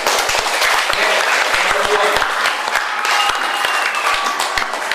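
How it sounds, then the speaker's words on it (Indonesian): Loud, dense audience applause from students at a high-school discussion forum, many hands clapping steadily and close for the whole five seconds, with sharp individual claps standing out from the wash. "Tepuk tangan buat kalian."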